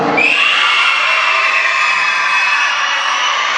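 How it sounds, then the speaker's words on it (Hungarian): Carnival crowd at a costume party letting out one big sustained shout, loud and steady with high-pitched voices blending together for several seconds right from the start. "egy nagy kiáltás legyen, jó?"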